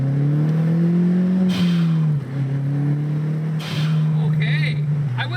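A turbocharged MK4 Volkswagen Golf GTI engine pulls hard at about three-quarter throttle, a loud, steady droning note climbing in pitch with a brief dip mid-run, up close from inside the car.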